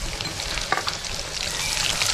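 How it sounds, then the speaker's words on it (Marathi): Cumin seeds and green chilies sizzle in hot oil and ghee in a kadhai, giving a steady, close, crackling fry with no talking. "आता आपल्याला ही जिरं फुललं की मिरची टाकायची"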